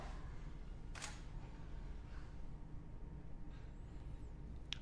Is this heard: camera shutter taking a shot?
yes